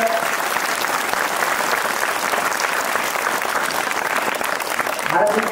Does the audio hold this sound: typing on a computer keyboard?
no